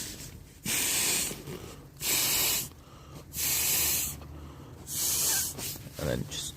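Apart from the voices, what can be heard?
air hissing into inflatable camping gear through opened valve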